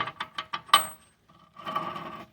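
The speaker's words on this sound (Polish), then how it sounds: "Odkręcamy tą śrubę i łożysko powinno zejść ładnie" A socket ratchet works loose a 32 mm hub bolt on a Fiat Bravo rear wheel bearing: a quick run of sharp ratcheting clicks, a pause, then a longer grinding mechanical whirr, close and fairly loud.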